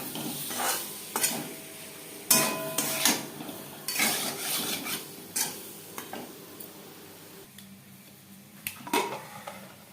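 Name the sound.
frying boiled potatoes in a pan for mutton curry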